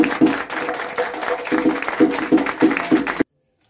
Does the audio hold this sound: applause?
yes